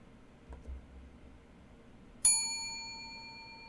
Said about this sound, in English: so I'm going to press that bell